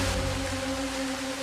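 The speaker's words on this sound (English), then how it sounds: "Oh man, the rain's coming down now." Rain pours down outdoors at a campsite, a dense, even hiss with a faint steady hum running underneath.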